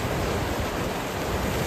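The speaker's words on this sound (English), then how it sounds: "each one a pool of bubbling acidic clay that never quite stops moving. They hiss and spit" Bubbling, hissing acidic mud pots at Mud Volcano in Yellowstone give off a loud, steady, rushing hiss that stays broad and unbroken throughout.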